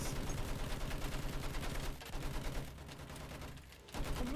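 Dense, continuous gunfire in the Battlefield V video game, with rapid overlapping shots that briefly thin out near the end before surging again. Loud and close throughout, with no talking.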